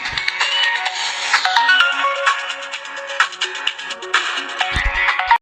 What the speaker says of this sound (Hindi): हमार फोन बाजा है देखी क्या हुआ।